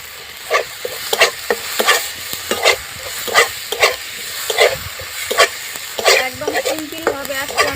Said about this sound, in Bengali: টমেটোটা আমি দিয়ে দিলাম এবারে খুব ভালো করে আমি কষিয়ে নেব